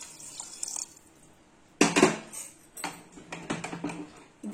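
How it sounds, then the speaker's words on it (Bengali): Water poured from a vessel onto chopped vegetables in a pressure cooker while making pav bhaji, a short splashing gush after a quiet start, then uneven trickling and dripping close by. "এবারে আমি এর মধ্যে জল ঢেলে দেব, পরিমাণ মতো দেবেন যাতে সবজিটা সেদ্ধ হয়"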